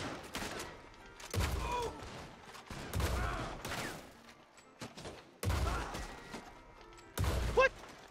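Bursts of gunfire ring out in Red Dead Online at Blackwater Saloon, with five or six loud separate volleys of shots spaced a second or two apart, each a sharp crack followed by a short ringing tail, with no talking.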